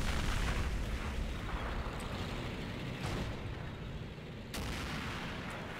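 Heavy anti-tank guns fire in a World War II battle in the game Assault Squad 2, a dense rumble of blasts layered into continuous loud explosive noise with a few sharper reports standing out.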